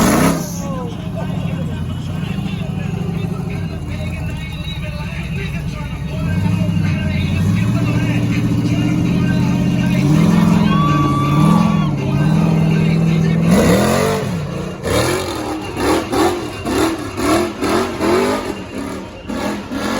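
Off-road buggy revving hard as it climbs Horsepower Hill at an off-road park, engine surging and dropping in pitch through repeated bursts, loud and close, with people talking over it.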